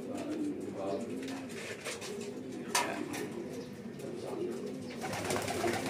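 Pigeons coo close by as racing pigeons are let out of their loft for morning exercise, soft repeated calls over a busy outdoor background with a sharp click partway through and faint talk.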